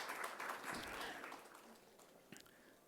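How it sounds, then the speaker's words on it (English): Applause from a panel discussion audience, a steady wash of clapping that gradually fades out over a few seconds with no voices over it. "I really do think this deserves a round of applause, ladies and gentlemen."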